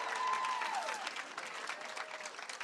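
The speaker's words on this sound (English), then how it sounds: "So let's give him a round of applause for his willingness to run." Crowd applause at a Colorado midterm election victory speech for Senator Michael Bennet, a broad, fairly faint wash of clapping from a large room that holds steady, with a faint whistle near the start.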